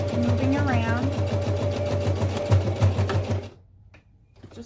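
A home sewing machine rebastes a slip pocket on a small fabric pouch, its motor humming with a rapid steady stitching rhythm for about three seconds before stopping, followed by quiet. A person talks over the running machine.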